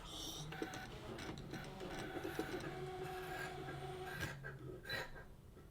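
A ScanNCut cutting machine runs with a steady mechanical whir and motor hum, moving the carriage back and forth with soft clicks and ticks, close and continuous.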